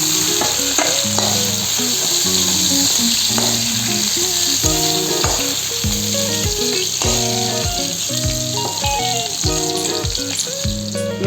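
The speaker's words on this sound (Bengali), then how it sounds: "মাছের মাথাগুলো ভাজা হয়ে গেছে, এখন আমি একটি পাত্রের মধ্যে ভাজাগুলোকে তুলে নিচ্ছি।" Catla fish heads frying in hot oil as they are lifted out into a bowl, a steady loud sizzle with repeated clinks and scrapes of a utensil against the pan, no voices.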